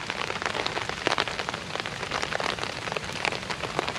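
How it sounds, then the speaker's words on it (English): Steady rain drumming on a poncho shelter during a camp, dense close patter of drops hitting the fabric throughout, with no talking. "Raining again."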